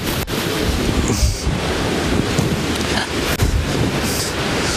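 Heavy rain and stormy wind outdoors, a loud steady roar of downpour with broadband hiss throughout, no voices heard over it.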